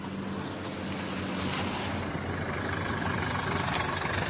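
A taxi's car engine idles steadily with a low, continuous rumble throughout, fairly close and even in level, with no talk over it.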